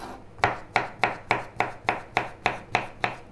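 A knife chops through zucchini for homemade pet food against a board in about ten steady, evenly spaced strokes, close and crisp, with no voices.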